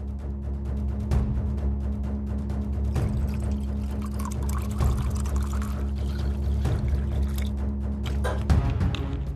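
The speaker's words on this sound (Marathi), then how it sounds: "जा ग्लास भर." A drink being poured into a glass indoors, with a steady liquid stream running for several seconds over a low background hum and a few faint clinks, with no one speaking.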